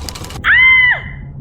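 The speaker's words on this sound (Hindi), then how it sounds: "आकांक्षा के मुंह से चीख निकल गई" A woman whose finger was caught in a sewing machine screams once, a single sustained, loud, piercing cry lasting about half a second that rises sharply out of a faint background hum.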